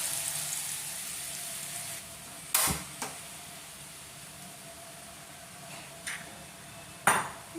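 About eight or nine curry leaves fry in a pan for Gujarati kadhi, giving a soft, steady sizzle for the first couple of seconds that then fades, with a few sharp utensil clinks against the pan.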